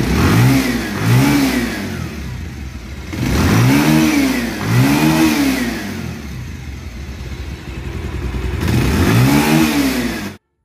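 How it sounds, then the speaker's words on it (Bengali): Motorcycle engine after a self-starter repair, revved in repeated bursts that rise and fall, loud and close, with a steady idle between the pulls and no talk. "বাইকের সাউন্ড শুনুন"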